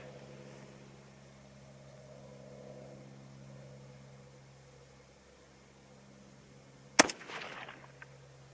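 A single sharp rifle shot from a .224 Valkyrie firing a 62-grain ELD-VT load, cracking out abruptly after a long stretch of low steady hum and fading quickly.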